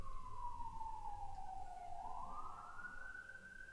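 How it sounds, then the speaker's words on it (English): A city ambulance siren wails in a single long, steady tone that dips and then rises as it passes at a moderate distance, with no talk over it. "We've had a flurry of ambulances here for background sounds."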